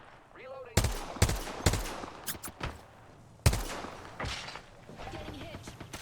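Heavy gunfire in Apex Legends, with Kraber sniper rifles among the weapons: several loud, sharp reports in irregular succession, some close together, over game ambience and faint voices.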